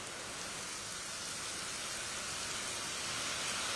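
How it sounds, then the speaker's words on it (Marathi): Monsoon rain falls steadily over Mumbai, a continuous even hiss of rain on surfaces with no breaks, moderately quiet and without voices. "मुंबईमध्ये प्रतीक्षेत असलेला पाऊस अखेर आज आलाय।"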